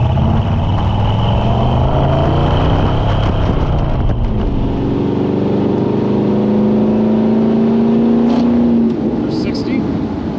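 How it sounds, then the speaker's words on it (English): A 1971 Chevrolet Blazer with a 5.3L LS V8 and true dual exhaust accelerates hard, its loud, steady engine note climbing and shifting as it pulls. A voice speaks over it. "So it's got a real nice classic V8 sound to it."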